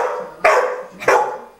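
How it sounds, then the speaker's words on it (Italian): A nervous dog at a beach spot in Brazil barks twice, sharp and close, with a short pause between the two barks. "È pericoloso sto cane."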